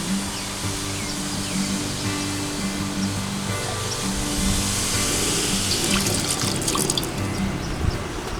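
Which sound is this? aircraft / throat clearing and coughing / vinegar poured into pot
vinegar poured into pot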